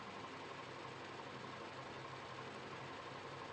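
A sewing machine runs steadily while stitching a corset seam, a continuous whirring hum at moderate level with no pauses and no voices.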